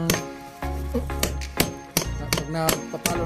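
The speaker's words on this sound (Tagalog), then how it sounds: "pag nagpapalo ng martilyo" A hammer drives nails into wood in sharp, ringing strikes, about nine blows at an uneven pace, close and loud, over low background noise.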